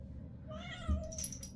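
Cats meow during rough play, a short rising-and-falling meow standing clearly over a low background rumble, with a brief thump partway through.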